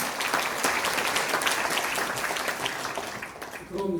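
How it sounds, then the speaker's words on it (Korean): Audience applause fills a Korean policy forum on revising the Local Autonomy Act, steady dense clapping throughout that thins out near the end as a voice begins. "대표님께 뜨거운 박수를 부탁드립니다"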